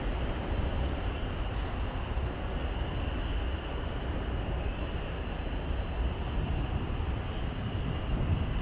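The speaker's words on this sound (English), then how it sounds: "Air Canada Flight 1033 coming in from Toronto, Airbus A220" An Air Canada Airbus A220 arrives from Toronto at DFW Airport, a continuous broad jet roar at moderate distance that holds steady with no talk over it.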